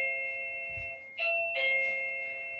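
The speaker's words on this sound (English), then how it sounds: "it's my doorbell, please ignore that." A doorbell chimes twice, two clear ringing tones in quick succession over a quiet room.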